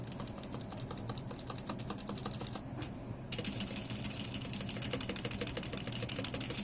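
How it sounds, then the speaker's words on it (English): Stabilized modifier keys such as shift on a lubed hot-swap Redragon K552 mechanical keyboard, pressed in a steady stream of close, muted clacks with a brief pause midway. "this is what the modifiers sound like, the stabilized modifiers"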